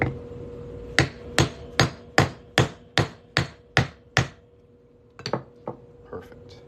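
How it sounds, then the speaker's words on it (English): Half-inch steel punch hammered through a fine silver coin: about nine sharp, ringing metallic strikes in a steady rhythm, close and loud, then a few lighter, uneven taps. "Using a 1/2-inch punch, and we're just going to hammer that on through."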